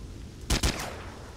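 Two quick, loud gunshots from a rifle fired while crouching in the shooter S.T.A.L.K.E.R. Shadow of Chernobyl with the Oblivion Lost 3.0 mod ring out close together. Each is followed by a short decaying echo over low outdoor ambience.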